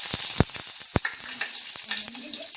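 Green chilies, cumin seeds, curry leaves and coriander sizzle and crackle in a spoonful of hot oil in a pan, with sharp pops and spits over a continuous frying hiss.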